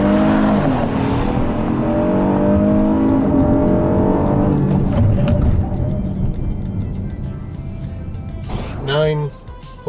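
A Honda Odyssey minivan revs to about 2,000 RPM and pulls away, its engine note climbing and steady for several seconds before easing off, with someone talking inside the cabin.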